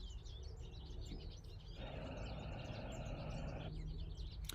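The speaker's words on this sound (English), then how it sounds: "most of the nature noises were the birds right above us that are being pretty awesome." Birds chirp overhead outdoors in a faint, continuous twittering, partly masked by a swell of rushing background noise in the middle.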